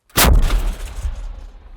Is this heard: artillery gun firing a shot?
yes